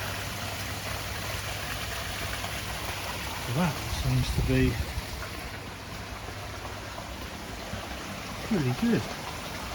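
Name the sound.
koi pond waterfall and shower running water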